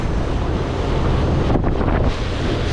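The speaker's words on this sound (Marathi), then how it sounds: "बंदरावरती पण खूप मोठ्या मोठ्या लाटा येतात" Strong wind roars across the microphone with heavy surf churning beneath at a Mumbai fishing harbour during a storm, a continuous loud rush of sea and gusts without any talking.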